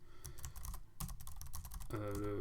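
Computer keyboard keys tapped in quick irregular bursts to steer a yellow car in a racing game, loud and close, with a brief steady tone near the end.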